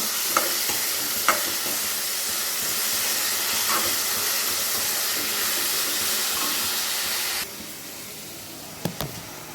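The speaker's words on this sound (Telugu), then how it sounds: "ఈ రెండు వేయడం వల్ల ఉల్లిపాయ తొందరగా వేగుతుందండి" Onions sizzle in a hot pan for a Telugu gongura boti curry, a steady close frying hiss with a few clinks of the stirring spoon and a drop in intensity near the end, no talking.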